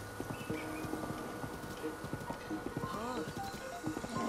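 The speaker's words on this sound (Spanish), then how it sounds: "Y era hora de que cojamos un caballo," Horse hooves clip-clop at a steady walking rhythm in a Zelda video game, with soft voice-like tones drifting over the hoofbeats.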